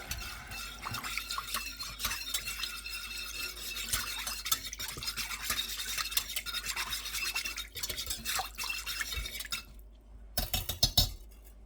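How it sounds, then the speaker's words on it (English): A minced garlic mixture being whisked in a bowl, with a fast continuous scratchy clatter of the whisk against the sides, close and busy, breaking off briefly near the end, no voices. "And now I'm going to whisk that together real quick."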